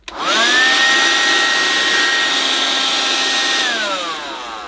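A Vax Kone cordless vacuum cleaner switches on, its motor rising quickly to a loud, steady whine that holds for several seconds before beginning to wind down, with no talking.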